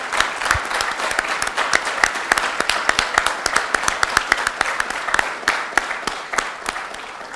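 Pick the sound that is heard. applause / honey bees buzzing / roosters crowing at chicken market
applause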